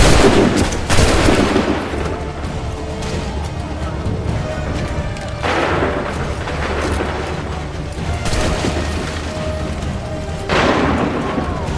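Gunfire in Assassin's Creed 3, with loud volleys of musket shots and booming blasts that strike every few seconds over a continuous battle din, along with faint voices.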